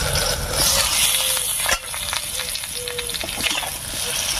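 Potatoes and pointed gourd sizzle in a pan, uncovered after cooking under a lid, giving a steady, close hiss with some light stirring, while a voice talks over it.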